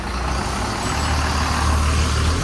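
A large vehicle's engine rumbles loud and close, a steady heavy drone as it is driven out from a rural weekly market.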